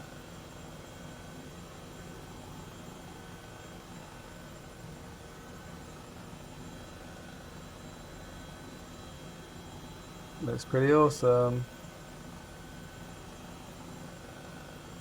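Airbus H135 helicopter flying low among Los Angeles city buildings in Microsoft Flight Simulator in VR, a steady droning rotor and engine hum running throughout, with a short spoken remark briefly rising over it near the end.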